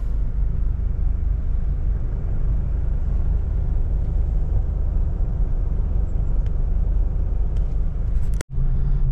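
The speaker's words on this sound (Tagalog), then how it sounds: "Naipit na po tayo sa traffic." Car engines idle in road traffic stalled by an accident ahead near Tarlac, a loud, continuous low rumble that holds steady before a brief thump and dropout near the end.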